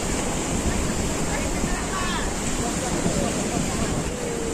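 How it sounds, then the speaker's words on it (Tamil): High ocean waves break on the shore at Dhanushkodi, a steady broad roar of surf mixed with wind buffeting the microphone, continuous and loud throughout. "வேவ்ஸ் வந்து இங்கே ரொம்ப ஹையாக இருக்குது."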